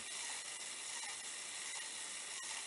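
Faint mechanical ticking and whirring from a small model railroad animation mechanism, barely audible under a steady hiss, with a few soft clicks.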